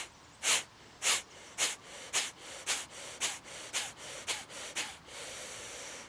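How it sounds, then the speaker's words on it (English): A person doing outdoor yoga breathing pushes out eleven sharp nasal exhalations in a steady rhythm that quickens toward the end, each a close, breathy puff with no talk. "take 10 sharp exhalations out through the nose"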